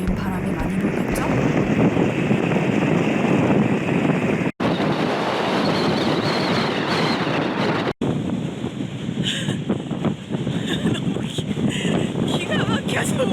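Strong wind in Iceland's Hverir geothermal area buffets the microphone with a loud, continuous roaring rush that has two brief dropouts, and voices can be heard under the gusts.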